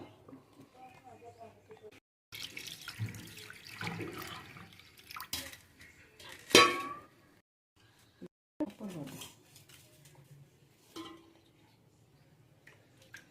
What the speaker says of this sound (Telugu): ఇలా కడుగేసుకోవాలండి ఫస్ట్.